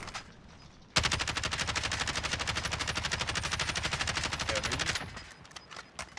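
A sustained burst of automatic gunfire in Call of Duty Warzone rattles rapidly and evenly for about four seconds, loud against a quiet background, then cuts off sharply.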